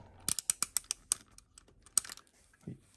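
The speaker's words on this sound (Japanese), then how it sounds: "回転レバーを回すと" A small TAKARA TOMY mini gacha capsule machine has its rotary lever turned, giving a quick run of sharp plastic clicks and ratchet ticks, then a louder click and a soft thud near the end.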